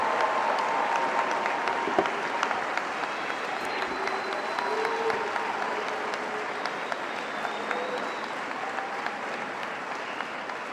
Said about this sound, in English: applause for our class of 2021.